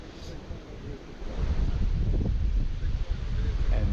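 Wind gusting outdoors beside the Blue River while trout fishing, a broad rumbling rush of buffeting against the microphone that swells louder midway and stays strong.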